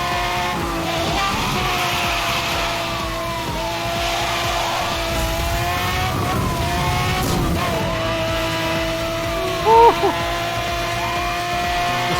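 A Mustang accelerates hard in the racing game Need for Speed Hot Pursuit, its engine rising and falling through gear changes with tire squeal and skidding, loud and continuous, while a voice talks over it.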